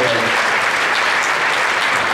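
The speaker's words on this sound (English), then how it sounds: "So let's give them a round of applause." A school music program audience gives loud, sustained applause, with a dense wash of clapping filling the room at a steady level from start to finish.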